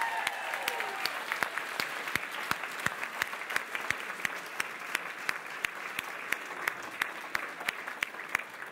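Applause in a Lincoln auction room after a lot sells, a sustained spread of many hands clapping with sharp individual claps standing out, no voices over it.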